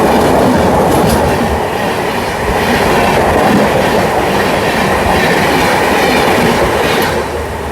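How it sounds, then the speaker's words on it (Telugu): A Mumbai LTT to Visakhapatnam superfast express rushes past close by, a loud sustained roar of wheels with rhythmic clickety-clack over the rails and faint squeal, fading slightly at the end. "ముంబై ఎల్టీటీ నుంచి విశాఖపట్నం వెళ్ళే సూపర్ ఫాస్ట్ ట్రైన్ అండి"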